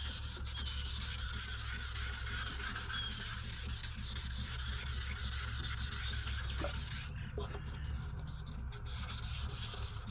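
A car headlight is wet sanded with fine sandpaper, giving a steady, close, soft rubbing and scraping that runs without a break. A brief pause in the hiss comes near the end, and nobody talks.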